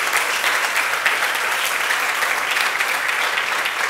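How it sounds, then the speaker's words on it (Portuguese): A church congregation at a Sunday morning service claps steadily, a broad, even roar of many hands filling the room at moderate level with no voices standing out. "eu queria que você aplaudisse e glorificasse o nome do Senhor."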